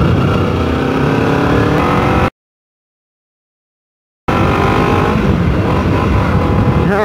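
A motorcycle engine runs loudly and close, holding a steady revving drone, then cuts to a two-second gap of total silence before the same engine sound resumes, with no talking.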